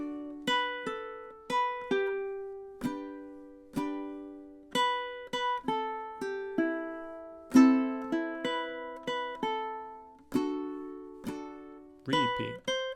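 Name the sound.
ukulele playing a song, repeated measures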